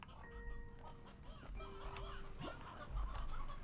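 Sea hens from Slime Rancher 2 cluck softly in the game, short bird-like calls over a low ambient background with occasional chirpy tones.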